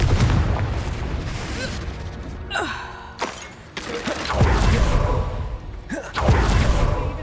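Confringo fire spells going off in Hogwarts Legacy combat: several booming blasts and bursts over busy game noise, with one clear pause between them.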